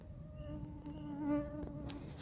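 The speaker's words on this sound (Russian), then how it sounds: "Жуткое количество комаров." Mosquitoes swarm at an outdoor fishing spot by a small campfire, a steady thin whining buzz that swells briefly as one passes close, over a low background rumble.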